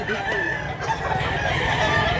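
Rooster offered for sale by a Cebuano seller, crowing amid a busy background with people talking nearby.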